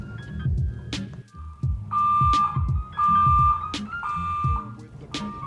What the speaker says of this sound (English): the fire alarm started blaring